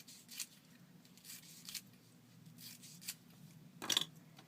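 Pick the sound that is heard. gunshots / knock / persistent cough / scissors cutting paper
scissors cutting paper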